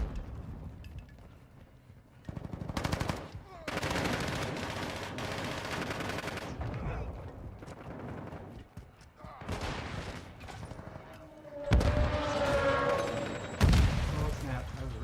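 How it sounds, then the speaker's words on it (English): Gunfire and a grenade explosion fill a chaotic Call of Duty: Warzone 2.0 firefight, with bursts of rapid shots, loud blasts and game voices talking over the din. "Oh snap, that was a real grenade."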